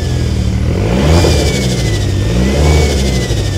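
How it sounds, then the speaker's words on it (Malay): A turbocharged Mitsubishi Lancer Evolution X engine revving loudly and steadily nearby, rising in pitch in surges with a faint high turbo whine over the roar. "korang boleh dengar sendiri bunyi turbo ni."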